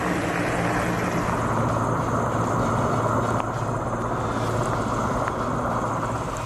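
A rescue helicopter flies over a flooded area in Gujarat, its steady, loud rotor and engine roar filling the whole stretch without a break.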